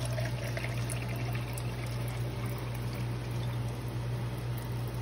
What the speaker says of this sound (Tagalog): Siyempre, lalagyan din natin ng tubig from Kangen Water.